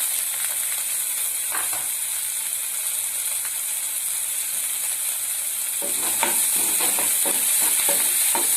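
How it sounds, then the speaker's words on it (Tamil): Green chillies frying in a pan for honey chilli chicken give a steady, loud sizzle throughout, with a few sharp stirring scrapes and clicks near the end. "பச்சை மிளகாய் லைட்டா ஃப்ரை ஆகணும். லைட்டா அப்படி வதக்கிக்கலாம்."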